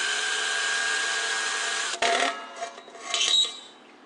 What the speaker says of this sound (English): I center punch the mark and then drill.